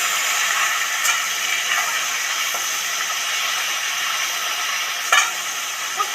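Fish frying in pungent mustard oil, a steady loud sizzle and hiss throughout with a few faint clinks of a utensil, no talking.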